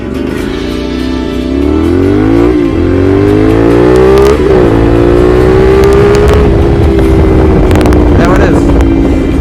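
A 2023 CFMOTO 450SR motorcycle accelerates hard up close, its engine note rising steadily through gear changes over loud wind rush, while a rider talks.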